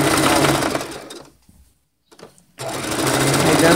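A sewing machine stitches a fabric strip onto a diaper, its motor whirring loud and steady, stopping for about a second with a few faint clicks, then running again at full speed.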